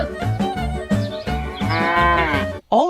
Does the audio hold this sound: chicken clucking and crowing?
no